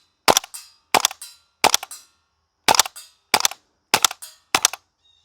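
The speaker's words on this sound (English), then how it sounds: "you don't get that noise from almost any other GBBR that is just so unique to" A WE L85 gas blowback airsoft rifle fires seven sharp, loud, close cracks, each with a brief metallic bolt clatter, spaced fairly evenly apart with quiet gaps between them.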